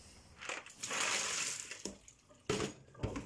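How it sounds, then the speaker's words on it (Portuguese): Clams being rinsed under water in a kitchen, with splashing and running water that rises and falls, plus a few sharp clatters of shells, close by. "passar por água as amêijoas que já estiveram a depurar."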